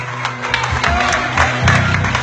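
An audience at a live Greek music night in Nea Agios Stefanos, Attica, applauds a musician with a short burst of clapping mixed with crowd voices and background music.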